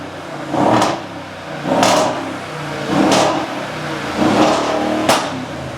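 A car engine with a factory exhaust revs in four or five separate bursts, each rising and falling back to idle in a steady rhythm, loud and close with no talking.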